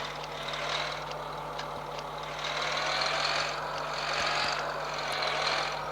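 In the Cargo Transport Simulator game, a Fiat Ducato van's engine pulls away with a steady droning rumble that swells slightly and holds at a moderate level, along with a low constant hum and no speech.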